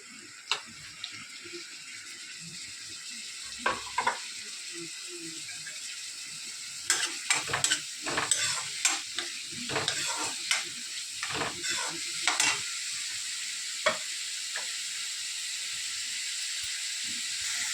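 Onions frying with curry leaves and green chillies in a pan for a Telugu anabakaya (bottle gourd) curry, a steady sizzle broken by scattered spatula scrapes and stirring clatters, with busier bursts in the middle of the clip.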